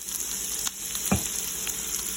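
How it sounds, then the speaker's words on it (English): Shallot and onion sizzle in hot olive oil in a pan, a continuous crackling hiss with a couple of brief clanks from a utensil or the pan partway through. "We're going to add our shallot and onion. And put that right down in."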